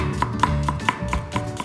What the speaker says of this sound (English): And then we're going to move on to chopping our garlic.